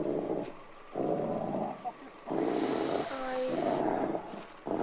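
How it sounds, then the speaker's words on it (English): A large animal growling in a dark forest, low rumbling growls in long sustained stretches broken by brief pauses, with a high ringing tone over part of it and no clear speech. "you can hear it growling at him"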